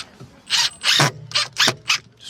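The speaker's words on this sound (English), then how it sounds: "Just pre-drilling the holes." Power drill pre-drilling holes into the wooden frame of a bed being built in a 1994 Mitsubishi Pajero, heard close up as five short, harsh bursts of whirring and grinding with brief pauses between them.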